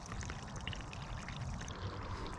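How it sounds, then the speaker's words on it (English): Water pours steadily and evenly into a bin, a continuous splashing rush with no pauses. "We've got a nice even water flow."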